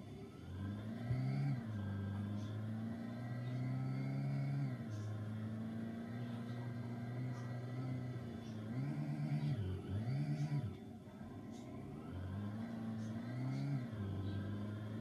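A car engine in a car destruction video game revs repeatedly, the pitch climbing and dropping in several rising sweeps, loud and steady without talk.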